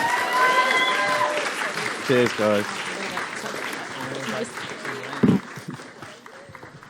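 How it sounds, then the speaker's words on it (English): Applause from a showcase audience after a film screening, fairly soft and diffuse, runs under someone speaking briefly, with a sharp knock near the end. "Everyone, another round of applause for The Mounts Have Wings."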